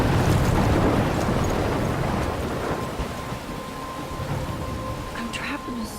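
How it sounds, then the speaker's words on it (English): Heavy rain and gusting wind roar in a thunderstorm in Life Is Strange, loudest at the start with a low rumble, then easing to a steady wash of rain with faint tones near the end. "I'm trapped in a storm?"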